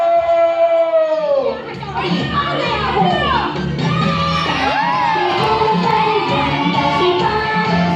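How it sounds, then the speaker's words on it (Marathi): A noisy crowd at a children's stage act with a cartoon-themed performance, shouting, cheering and whooping in a dense, loud commotion that carries on steadily throughout, with children's voices prominent. "गर्दी आणि गोंधळ"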